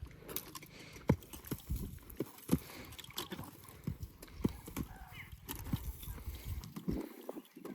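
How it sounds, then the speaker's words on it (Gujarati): A mare jumps and moves on the ground, her hooves making faint, irregular clip-clop thuds at a distance, with a low outdoor background. "ઘોડી કુદાવે છે."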